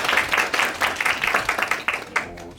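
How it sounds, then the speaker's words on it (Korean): An audience at a medical specialty fair applauds a speaker's introduction with brisk, fairly close clapping that swells in bursts and then trails off quickly. "많은 박수 부탁드리겠습니다"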